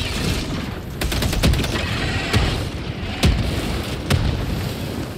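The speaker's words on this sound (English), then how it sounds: "That mortar. Jesus, mortar." Mortar shells explode in the video game Helldivers II against a steady rumble of battle, with four or five sharp booming impacts spaced about a second apart.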